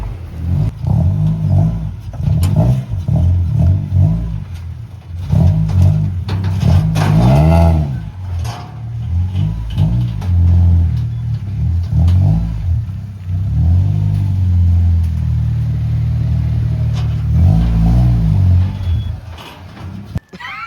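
An old Honda Prelude's engine revs and rumbles as the car pulls away, loud and close with repeated throttle blips and rising pitch sweeps, then fades slightly; no speech is heard.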